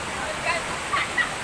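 A waterfall in full flow, heavy and murky after rain, gives a steady, close roaring rush for a brief moment.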